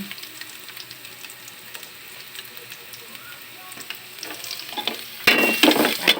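Garlic sizzles and fries in a pan while being stirred, a soft, steady crackle that swells into a louder burst of sizzling near the end, with a faint voice in the background.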